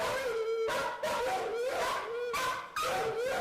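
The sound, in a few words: fearful shelter dog barking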